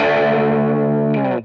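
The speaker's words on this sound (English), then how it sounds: "Now this distortion is interesting to me because it's a very ratty sounding distortion." Electric guitar run through a Mooer Red Truck distortion pedal with the gain pushed to about three-quarters, giving a sustained, ratty, crunchy chord that rings loud and steady before cutting off abruptly.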